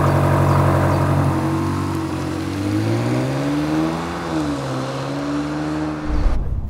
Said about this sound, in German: Diese Lautsprecher hier im Innenraum bringen den V8-Sound von hinten nach vorne.